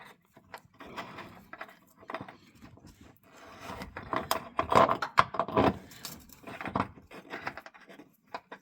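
Body mount bolts being tightened on a 2003–2011 Ford Panther platform car: quiet, irregular metallic ratchet clicks and scraping in short bursts, close by and fairly faint.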